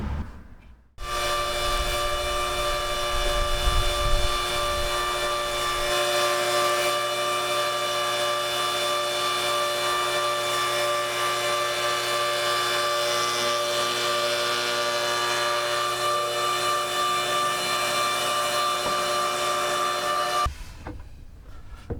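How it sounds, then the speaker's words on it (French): A power tool jointing the edges of oak boards runs in a steady loud tonal whine for about twenty seconds, starting and stopping abruptly with a low rumble early on. "J'ai dressé la tranche des planches"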